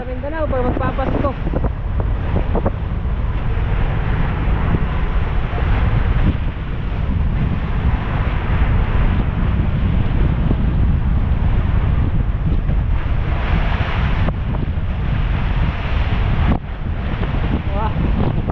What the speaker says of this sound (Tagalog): Grabe po mga kabisig ang alon dito muna sa Mindanao pag magpapasko.